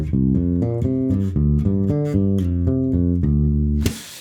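A bass guitar fill in C Dorian of quick plucked notes leaping in fourths, steady and close, ending with a brief noisy scrape, no talking.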